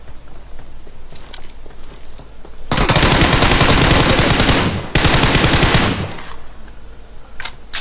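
Rapid automatic gunfire from the mobile battle-royale game PUBG Mobile blasts loud and close in two sustained bursts, the first about two seconds long and the second shorter, with quieter game ambience around them and no talking.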